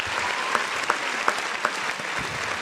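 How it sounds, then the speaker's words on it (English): Applause fills the air in a steady wash of clapping from a crowd at San Francisco 49ers training camp, with a few sharper claps standing out up close. "Give them a round of applause."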